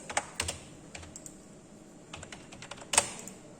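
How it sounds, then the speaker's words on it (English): Quiet computer keyboard typing while a title is entered into power-system engineering software, heard as irregular bursts of soft keystrokes with short pauses and one sharper clack near the end, no talking. "you have to type the title of the exercise"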